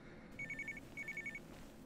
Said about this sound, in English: All right, pick up the phone. That's a phone.